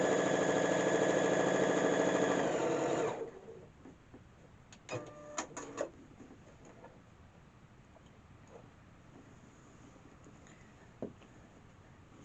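A sewing machine stitches a quilt block in a fast, loud, steady whir for about three seconds, then stops, leaving a few quiet clicks and handling sounds.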